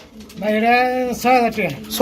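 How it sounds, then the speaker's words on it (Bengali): Romangal pigeons give drawn-out, warbling coos close by, with someone talking over and between the calls. "খুবই চমৎকার একটা রিয়ার কালারের মধ্যে রুমাঙ্গাল কবুতর"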